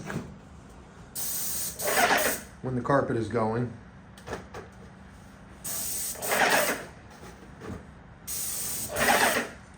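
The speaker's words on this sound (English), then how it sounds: "now they're going through and they're spraying the trim" An airless paint sprayer hisses in several long, loud bursts while spraying trim in an apartment under renovation, with short pauses between passes and people talking in the background.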